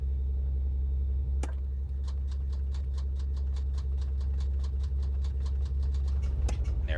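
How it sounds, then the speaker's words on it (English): Simulated twin piston engines of a Beechcraft B58 Baron idle steadily in the X-Plane flight simulator, a continuous low rumble with a rapid regular ticking layered on top and a couple of sharp clicks. "Engine is started. Both engines on, both alternators are running."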